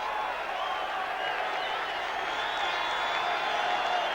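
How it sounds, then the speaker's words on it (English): A home crowd roars steadily as rugby league teams take the field at a 1988 World Cup final between New Zealand and Australia, a broad, continuous wash of distant cheering filling the stadium. "Out they come, and the home crowd give them a big roar."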